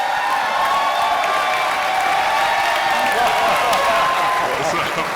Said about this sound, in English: I want y'all to stand up and give a round of applause for Todd Mud Duck McClure.